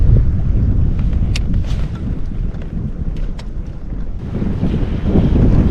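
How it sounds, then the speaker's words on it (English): Strong wind roars steadily across a boat out on the water during night bass fishing, a broad continuous rush with gusty swells, loud and close with no talk. "we got a brutal wind kicking now"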